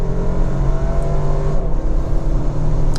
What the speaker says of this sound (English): you can hear very loudly the air coming into the intake via the snorkel over there